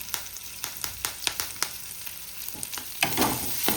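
Curry leaves drop into a pan of frying tomato and onion for a chicken liver pepper dry, giving a run of sharp spoon taps and crackles over a steady sizzle that swells louder near the end.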